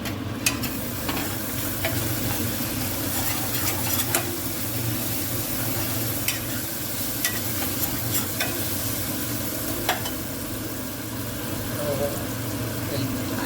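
Tomato gravy frying and stirred in a pan with ginger, cashews and chilli-garlic paste, a steady close sizzle under a low hum, with scattered spoon scrapes and taps throughout.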